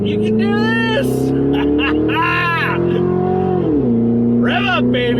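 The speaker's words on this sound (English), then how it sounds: "Rev up, baby! Let's go." Ford Police Interceptor engine with the exhaust cut off to open catalytic converters, revving up and holding a steady loud drone, then dropping in pitch near the end, with someone talking over it.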